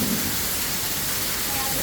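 Heavy rain pours down in Surat as a constant, dense roaring hiss with no break across the short stretch.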